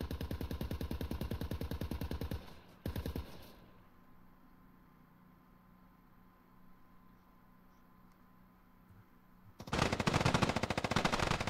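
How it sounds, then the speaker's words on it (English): Rapid automatic gunfire in the military shooter game Squad, loud bursts at the start and a dense volley near the end, with a quieter stretch of distant rumble and an isolated shot between. "Some shots coming in."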